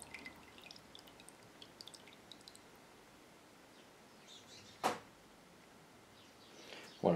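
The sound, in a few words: water dripping off boiled leather piece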